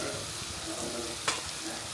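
Chopped onion fries in a pan with salt and turmeric, a steady close hiss of sizzling oil broken by a brief scrape of stirring partway through.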